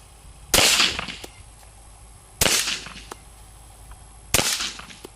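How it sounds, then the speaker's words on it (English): .45 ACP pistol fired through a SilencerCo Osprey suppressor, making three sharp, loud suppressed reports at an even spacing of about two seconds, each followed by a short decay and outdoor range ambience. "we're going to shoot 3 rounds of 45 ACP through the Osprey"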